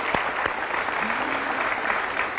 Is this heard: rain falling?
no